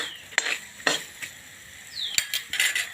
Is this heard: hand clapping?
no